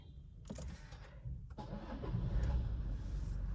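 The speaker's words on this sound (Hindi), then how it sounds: "कार की बैटरी हो गई है चेंज, स्टार्ट करके देखते हैं।" A car engine cranks with a couple of brief stuttering attempts, then catches and settles into a steady, close idle that grows slightly louder, freshly started after its battery was replaced.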